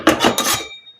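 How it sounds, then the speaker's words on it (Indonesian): A wok and metal pans are handled in a home kitchen while cooking is set up, producing a quick series of three or four close, sharp clanks and scrapes before falling quiet. "Nah, sekarang kita siapkan untuk wajannya"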